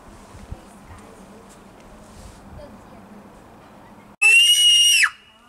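A young child, hiding indoors during play at home, lets out a loud, sustained high-pitched scream lasting about a second, bursting in after quiet room noise with faint background talk.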